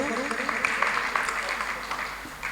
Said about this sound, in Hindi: एक बार आदेशित कीजिए तालियों से ताकि मैं शुरू करूं